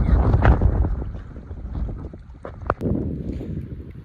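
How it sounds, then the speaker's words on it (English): Wind rips through a canyon, a gusty, rumbling roar buffeting the microphone with a few sharp knocks partway through. "There's just no escaping the wind."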